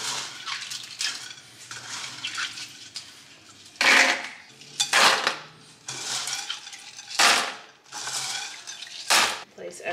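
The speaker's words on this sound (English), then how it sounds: "toss leca at the bottom." LECA clay pebbles are tossed into a plant pot in a series of loud, rattling clattering bursts, each handful pouring in with a gritty rush and separated by short pauses.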